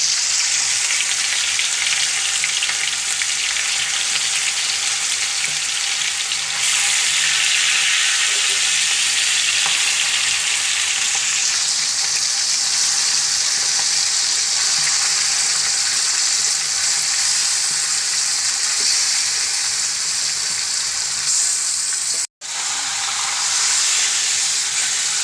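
Chicken pieces sizzle steadily in a hot pan with bay leaf and garlic for a spicy Bengali jhal fry kosha, a loud, continuous close-up hiss lasting the whole time with only one brief break near the end.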